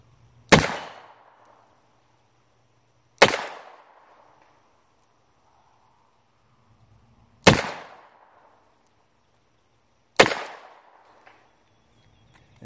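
Four loud, close handgun shots firing light wadcutter loads, each a sharp crack with a short decaying tail, spaced a few seconds apart.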